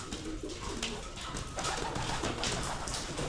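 Pigeons in a loft scrambling for corn, their soft cooing mixed with a dense, continuous flutter and shuffle of many birds close by.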